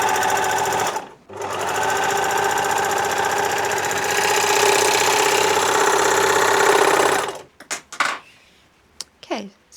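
A sewing machine runs in fast continuous bursts while stitching the edges of scrunchie fabric, loud and close, with a short pause early on and a stop near the end followed by faint handling sounds.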